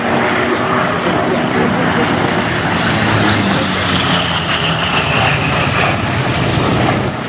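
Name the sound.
Grumman Bearcat piston-engine fighter aircraft flying past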